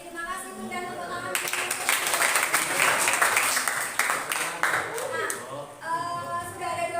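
A class of students claps together in a classroom, building from voices into a few seconds of dense, lively applause that then fades back under talking.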